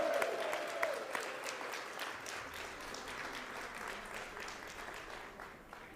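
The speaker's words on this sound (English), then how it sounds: "Can we give Trudy a round of applause so she can hear us wherever she is?" Crowd at a campaign headquarters on election night applauding for Trudy, steady broadband clapping filling the room throughout, with a brief tonal sound near the start and faint voices mixed in.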